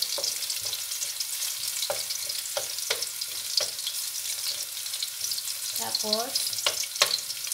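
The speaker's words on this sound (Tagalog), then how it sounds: "Haluin natin hanggang mag-golden brown." Garlic sizzles steadily in hot oil in a pan, with repeated sharp scrapes and taps of a spatula stirring it; a short spoken word cuts in near the start.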